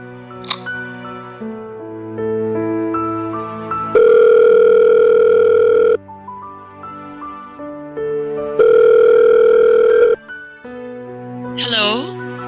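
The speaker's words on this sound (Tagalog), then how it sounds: "Tawagan ko nga si Cecil." A telephone ringing on an outgoing call, two long loud tonal rings with pauses between, set against background music, ending with a short rising whoosh effect.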